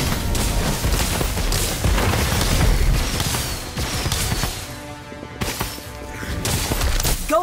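Booming spell explosions from the Whizbang spell in the Harry Potter Magic Awakened video game, a dense run of loud blasts and crackling bursts over busy game sound, easing briefly before swelling again.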